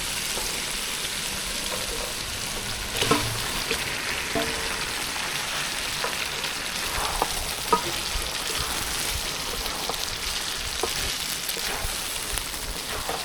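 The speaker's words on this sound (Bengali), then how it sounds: "আমি চিকেনটা ভালো করে কষাই নেব" Marinated chicken frying in a spiced masala for chicken kosha, a steady close sizzle with occasional stirring clinks over low heat, no voices.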